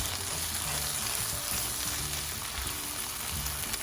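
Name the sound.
egg patty filling with ketchup frying in a pan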